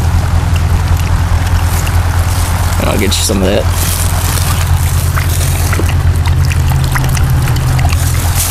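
A spiral jar fountain gives a gentle, steady trickle of water, mild and continuous with no rushing, while someone speaks over it.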